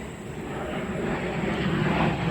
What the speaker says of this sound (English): Let the jet go by.